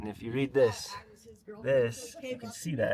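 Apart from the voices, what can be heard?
None of the usual background noises is heard.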